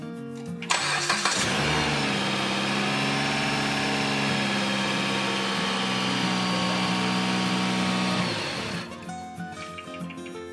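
A Dodge Journey 2.4 engine cranks and starts, then idles evenly with a steady mechanical hum and pulley whine for several seconds before shutting off, heard up close with no talking.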